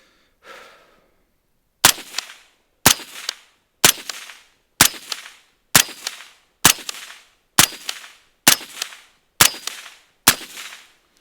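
A rifle fitted with a YHM Turbo T3 suppressor fires ten rounds at a range, each a sharp suppressed crack at roughly one-second intervals, evenly paced and close, preceded by a soft breath.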